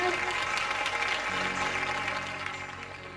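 A congregation at a morning prayer meeting breaks into loud, sustained applause in thanks to God, dense clapping that gradually tapers off toward the end.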